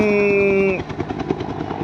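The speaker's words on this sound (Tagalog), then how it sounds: "pang militar yung ano helicopter na yun mga idol mababa lang siya" A low-flying military helicopter circles over the sea, a steady tonal whine cutting off abruptly and giving way to a rapid rotor chop that thumps on, fairly close and loud, with no voices.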